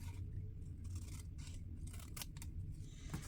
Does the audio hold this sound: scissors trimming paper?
yes